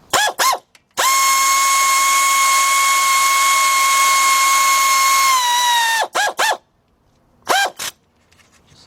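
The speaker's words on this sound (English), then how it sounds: "if you're using an air ratchet like I am" Air ratchet running down a front brake bolt on a 2005 Chevy Suburban: a few quick short bursts, then one loud sustained whine of about four seconds that drops in pitch as the bolt seats, followed by more brief bursts, close up with no talk.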